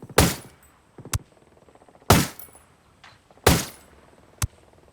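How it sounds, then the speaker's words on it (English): Three loud, sharp gunshots ring out in Ghost Recon Wildlands about a second and a half apart, each followed by a quieter shot, with soft ticking in between. "Okay, are they shooting at each other?"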